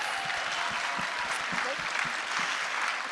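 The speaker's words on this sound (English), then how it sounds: "Let's give a round of applause." A conference audience at SXSW claps in a steady, dense round of applause that carries evenly throughout, with some voices mixed in.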